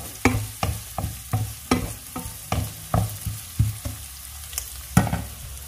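A spoon scrapes and stirs chicken bopis with onions and ginger in a hot pan, making about a dozen rhythmic strokes over a steady close sizzle, with no voices.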